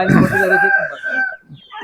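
A rooster crows once, close and loud, in a single drawn-out call that rises and then trails off near the end.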